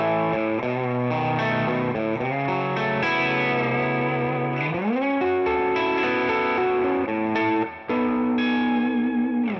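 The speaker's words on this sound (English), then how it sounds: "finally let's hear the bridge pickup on the slight clean tone" An electric guitar on its bridge pickup plays a melodic line with sustained notes and slides through a slightly clean, dark tone with chorus and echo effects. The instrument is a James Tyler Studio Elite HD Alien Guano.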